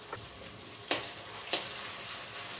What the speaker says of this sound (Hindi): अब हम इसमें एक छोटा कटा टमाटर डाल देंगे